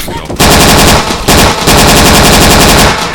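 Loud, sustained machine gun bursts hammer away in the Dino D-Day shooter game, rapid rhythmic shots with short pauses between bursts, close and dominant.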